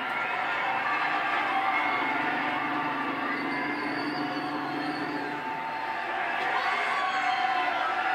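A large race-day crowd at Talladega Superspeedway during a NASCAR Cup Series playoff race, a broad continuous roar of cheering voices carrying at steady loudness, with faint shouts rising out of the din.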